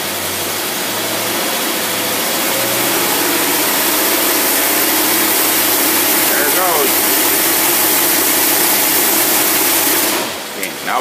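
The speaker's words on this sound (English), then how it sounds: "we're going to take it on up until the rev limiter hits in" Engine fitted with an Autolite 4100 carburetor roars loudly and steadily near at high revs toward the rev limiter, broadband and sustained with a rising whine, dropping off at the very end.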